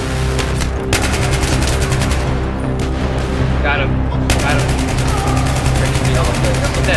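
Heavy automatic gunfire in a Battlefield 3 co-op firefight, dense rapid shots hammering steadily and close, briefly thinning before resuming, with a tonal, voice-like sound in the lull.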